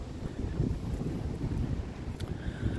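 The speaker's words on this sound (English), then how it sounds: "except for that wind" Wind blowing outdoors on a nice day, a steady rumbling buffet against the microphone with low gusty noise and no talking.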